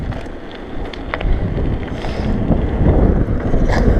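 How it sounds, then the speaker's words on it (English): Strong side wind buffeting the microphone while cycling fast downhill on a hill road, a loud, continuous rumbling roar that builds steadily and dominates, with faint whistling above. "Yeah, side wind. Not the best when you're biking."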